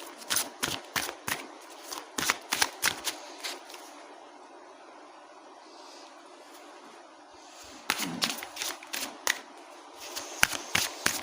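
Tarot cards being shuffled and drawn, heard as quick, close, crisp flicks and snaps in two dense bursts, with a quiet stretch between them.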